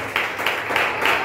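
Congregation in a Brazilian evangelical church service applauding, dense sustained clapping from a crowd with rhythmic surges, loud and close.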